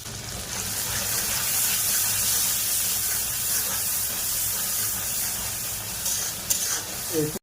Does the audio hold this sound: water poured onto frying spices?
yes